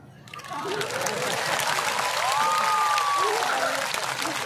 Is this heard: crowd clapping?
yes